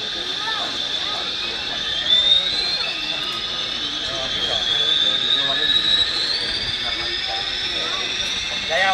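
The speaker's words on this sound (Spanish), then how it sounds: "Ya va la turbina, ya está cogiendo vueltas la turbina." An RC model jet's turbine spooling up at an RC club anniversary flying event: a loud, rising high-pitched whine over a rushing hiss, climbing steadily in pitch, with voices talking nearby.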